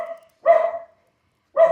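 A dog gives two sharp, close barks about a second apart, with silence between them.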